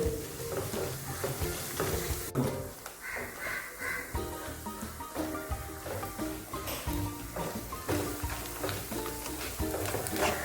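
Onions and spices sauté in a pan for a traditional Kerala chicken curry with a continuous moderate frying and stirring sound. Faint crow calls and other tonal background sounds run underneath.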